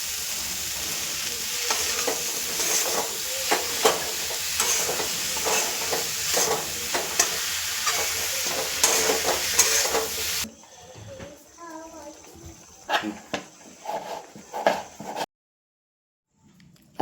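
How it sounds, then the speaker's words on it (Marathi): Kitchen king masala and sambar masala sauté in a pan for a mushroom curry, giving a dense, continuous sizzle with rhythmic spoon scrapes that drops to quieter, sparse stirring and then silence. "तर हे सगळं आपण छान परतून देणार आहोत."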